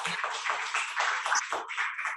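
Clapping from a sixth-grade class over a Zoom online lesson, praising a student; a steady patter of hand claps runs throughout the clip, slightly compressed and uneven.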